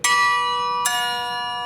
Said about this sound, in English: gradually skimming metal off the inside of the bell to turn this sound